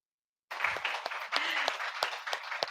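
Audience applause at a Cebu commemoration of the 1898 revolution, starting abruptly after silence and continuing as a dense, steady crowd clapping with sharper individual claps standing out.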